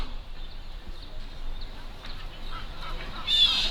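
Faint bird calls sound in the distance at an outdoor cricket match, over a low background hum, with a brighter chirp near the end.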